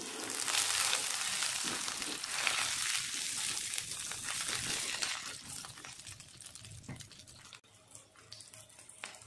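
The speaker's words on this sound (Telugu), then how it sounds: "ఇప్పుడు కొంచెం జీలకర్ర వేస్తున్నాను, అలాగే తాలింపు గింజలు కూడా వేస్తున్నాను కొన్ని." Cumin and tempering seeds sizzle in hot oil for a lemon rice tempering, a steady loud crackling hiss that eases slightly toward the end, with no talking.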